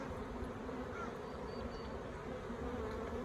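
Honey bees buzzing steadily around an open Flowhive during a hive inspection, a dense continuous drone close by with no voices over it.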